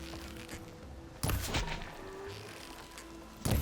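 Gunfire aimed at a boar in Horizon Forbidden West, two sharp loud shots about two seconds apart over a low game ambience.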